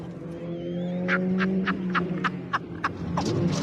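A race car driven by James May veers off the track: a steady engine drone runs throughout, broken by a regular series of sharp rattling bursts, fairly close.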